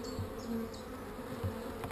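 Honey bees buzz around an open hive as a brood frame is lifted out, a steady close drone with a few individual bees passing nearer and fading off.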